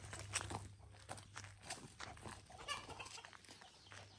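Chickens on a farm with a newly hatched chick, faint scattered clucks and thin high peeps over soft shuffling footsteps and low background hum, no speech.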